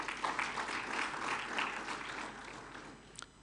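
An audience at a memorial conference claps, a soft, steady patter of many hands heard from a distance that gradually thins out and fades near the end.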